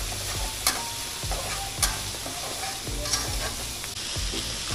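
Pork chu chee curry with soup stock being stir-fried in a pan, a steady loud sizzle with regular scraping stir strokes about once a second, close up.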